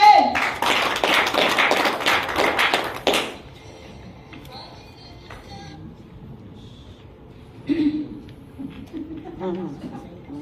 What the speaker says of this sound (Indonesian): Aplaus untuk MG.